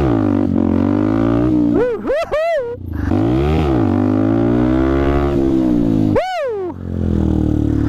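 A motorcycle being ridden for wheelies blasts out two sharp, rising revs, one early and one later, over a steady idling rumble, with someone talking nearby.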